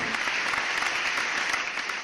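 Steady, dense applause from a crowd of country farmers in Vicentillo, continuous and fairly loud throughout, with no talking over it.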